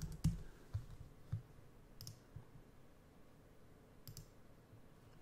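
Faint, sparse clicks come from a computer keyboard as a short name is typed into a photo software search bar, with quiet gaps between the keystrokes.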